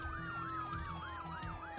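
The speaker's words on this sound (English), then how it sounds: "Police sirens are still blaring in the distance." Police sirens wail in a rising and falling cycle, repeating steadily over a low rumble, and sound somewhat distant.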